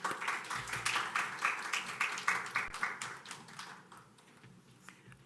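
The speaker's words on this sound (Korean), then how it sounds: "우리 박수로 맞이하도록 하겠습니다" A church congregation applauds to welcome a pastor arriving to preach at a Sunday service, with dense, steady clapping from many hands that fades out after about four seconds.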